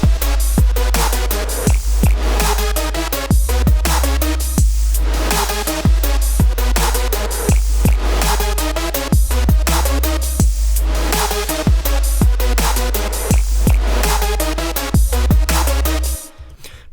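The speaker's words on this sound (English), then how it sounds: "My trap drop is only 4 bars long, but it sounds pretty cool. It sounds like this." Trap drop built in Logic Pro X with a Boutique 909 drum kit and a ghost kick, four bars of punchy kicks, snappy snares and rolling hi-hats over a loud, sustained sub bass, playing steadily until it stops abruptly at the end.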